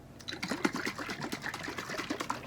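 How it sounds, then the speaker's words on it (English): A lidded glass jar holding green water and oil is shaken hard, giving a rapid, continuous rattling slosh of liquid at close range for a couple of seconds, with no talking. "Now, I'm going to screw the lid on the jar, and I'm going to shake it up."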